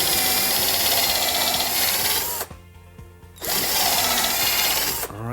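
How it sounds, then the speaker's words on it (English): A power drill whirs loudly at high speed drilling pilot holes in pallet wood for a coffee table, stops briefly, then runs again, with a short pause near the end; no voices. "We start off by drilling pilot holes in first."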